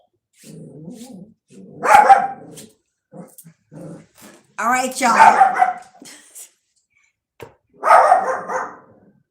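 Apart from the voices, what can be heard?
dog barking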